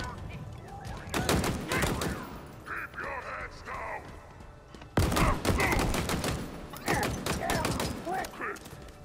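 Gunfire in Halo Infinite, a video game: dense bursts of rapid shots in two loud stretches separated by a brief lull, mixed with game sound effects and voices.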